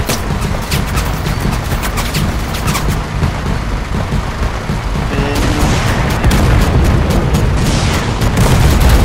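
Rapid bursts of gunfire and heavy RPG rocket explosions from the combat video game Total Conflict Resistance, with dense, loud, overlapping shots and booms that build in intensity toward the end.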